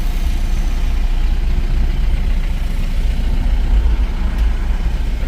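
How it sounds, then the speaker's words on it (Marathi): A truck drives along a road carrying two lanes of traffic, its low engine rumble loud and continuous, heard nearby over steady road noise with no one speaking. "आता तो ट्रक येता बघा त्याकडनं"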